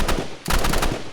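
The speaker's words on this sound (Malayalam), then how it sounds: "എവിടെ ഇങ്ങോട്ട് വെടിവെക്കുന്നത്?" Rapid bursts of automatic gunfire from the Roblox shooter game Rivals, loud and close, with a brief gap before another sustained volley.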